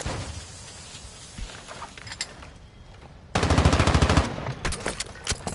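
A decoy grenade in Warzone mimics machine gun fire, starting as a few faint scattered shots, then bursting midway into a loud, close, rapid rattle of automatic fire that sputters on in shorter bursts.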